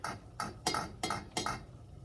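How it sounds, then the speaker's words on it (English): A spoon stirring lip balm ingredients with beeswax melting in a pot, five evenly spaced scraping strokes against the pot, close and fairly soft, without talk. "we're just going to stir it all up until everything melts together"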